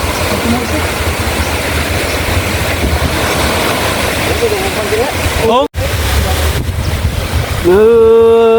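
Steady, loud wind buffeting the microphone over a constant broadband roar, with a brief dropout and some voices or tonal sounds near the end.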